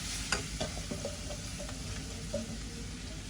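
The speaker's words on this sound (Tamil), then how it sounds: "போட்டு நல்லா மிக்ஸ் பண்ணிடுவோம்" Grated coconut mixed with turmeric stirred in a pan, a soft continuous scraping and shuffling with light sizzle, steady and close throughout.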